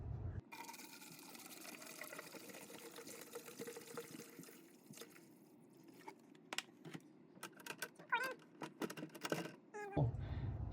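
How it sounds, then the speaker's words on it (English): White vinegar poured into a container holding fire-damaged golf clubs, with a steady liquid filling sound close by, followed by clinks and crunchy handling noises near the end. "Now we're gonna put this white vinegar in."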